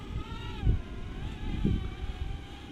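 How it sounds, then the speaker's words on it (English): Gusty outdoor wind buffets the microphone with a steady low rumble and two stronger gusts while an Eachine E59 drone's motors whine faintly above it during flight. "This wind's really giving me grief."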